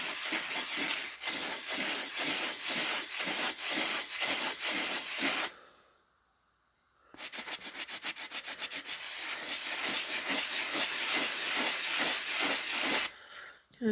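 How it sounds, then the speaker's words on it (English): A custom tumbler is sanded by hand in fast, rhythmic back-and-forth rasping strokes, close and steady, broken once by a brief silent pause before the strokes resume at a quicker, denser pace. "we're going to sand down."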